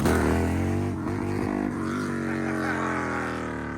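A Harley-Davidson bagger motorcycle revs hard while lifting into a wheelie, its loud, steady engine drone near and continuous, with a voice talking over it.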